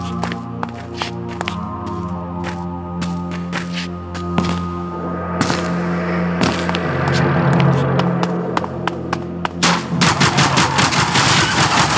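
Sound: gunfire in the Zombie Stories video game

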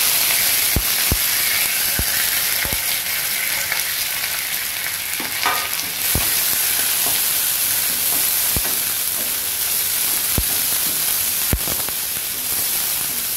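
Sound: onion, green chili and curry leaves frying in a pan

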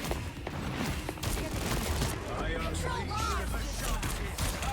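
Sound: gunfire in video game Marvel Rivals

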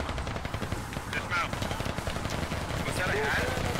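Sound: gunfire exchange in the video game Squad

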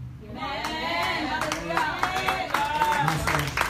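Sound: congregation clapping

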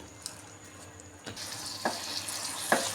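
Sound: stirring fried chicken into boiling sauce in a pan

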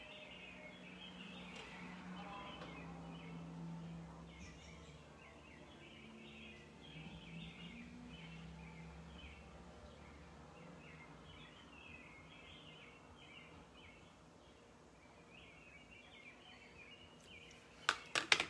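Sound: birds chirping outdoors

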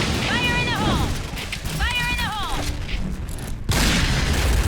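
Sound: gunfire from Point Blank video game gold gun

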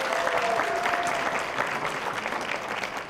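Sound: audience applause for quiz contestant

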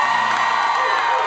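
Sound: audience applause and cheering

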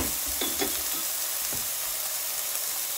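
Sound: pot roast searing in a pan, sizzling

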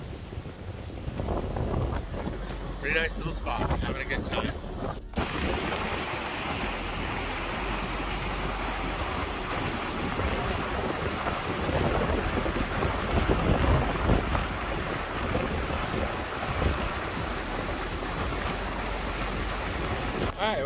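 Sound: strong wind blowing outdoors near a waterfall

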